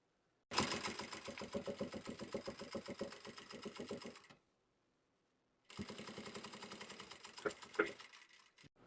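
A sewing machine stitches fabric in a fast, even mechanical chatter for about four seconds, stops briefly, then runs again, close and alone with no talk.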